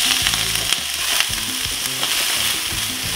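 Beef tenderloin sears in a hot pan with olive oil, giving a steady, close hiss and crackle of frying that holds evenly throughout.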